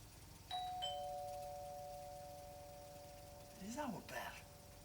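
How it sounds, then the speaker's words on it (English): A doorbell rings indoors with a clear two-tone chime that hangs and fades, followed a few seconds later by a quieter rising and falling electronic tone. A television-style background hum runs underneath. "Is that our bell?"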